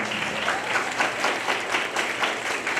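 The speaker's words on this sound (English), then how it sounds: "Clap, clap, clap, everybody." Audience applause for a cadet at a middle school JLC awards ceremony, steady dense clapping from a crowd filling the room at an even level.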